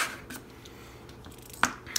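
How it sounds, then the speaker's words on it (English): Box-cutter style carving tool slices a rubber eraser stamp on a cutting board, giving soft scraping cuts and a couple of sharp little snips, close and quiet. "So I'm actually going to carve those pieces off."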